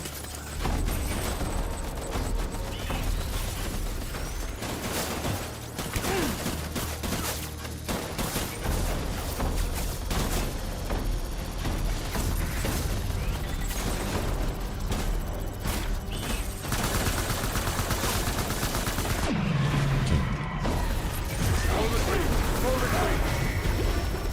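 Sustained gunfire from the video game Death Stranding rolls through a chaotic firefight, rapid shots mixed with crashes and mechanical clatter, continuous and loud, with voices talking under the noise.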